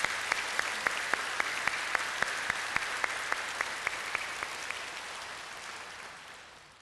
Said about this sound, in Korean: 다 함께 우리 다 환영하는 마음으로 박수로 환영하겠습니다.